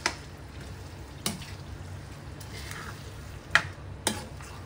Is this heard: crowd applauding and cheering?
no